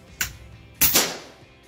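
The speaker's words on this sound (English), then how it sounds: "Okay, so we're back and reloaded here. Let's keep taking some shots." An FX Dreamline airgun fitted with a power plenum fires, giving a brief snap followed by a louder, sharper crack with a short tail, close to the listener and without speech.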